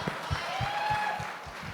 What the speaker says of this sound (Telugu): That film deserves to be clap for.